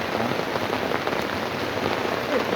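Steady rain pattering on a surface, a dense continuous hiss of drops with no voices, holding an even loudness throughout.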